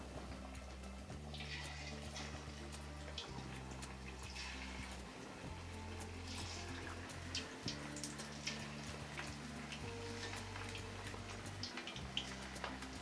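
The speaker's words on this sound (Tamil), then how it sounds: "இப்போ நம்ம ஒவ்வொரு பீஸாக எடுத்துகிட்டு அப்படியே எண்ணெயில் போட்டுடலாம்" Chicken lollipop pieces frying in hot oil over a low-medium flame, a faint, steady crackling sizzle beneath a looping low background melody, with no talking.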